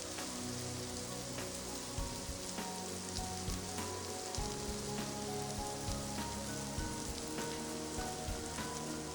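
Garam masala, coriander and chili powder sauté in a pan for mutton roast, giving a continuous close sizzling hiss punctuated by occasional light scraping clicks.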